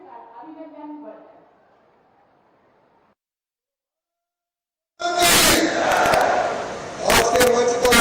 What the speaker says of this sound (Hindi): जोरदार तालियों के साथ अभिनंदन वर्धन